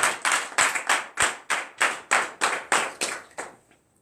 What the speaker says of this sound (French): Donnons l'acclamation à lui.